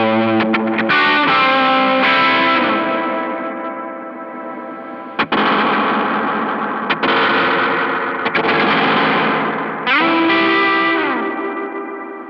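An electric guitar runs through a Death By Audio Reverberation Machine pedal, sustained chords washing into long distorted reverb tails, with several fresh strums cutting in loudly over the decaying wash and no talking.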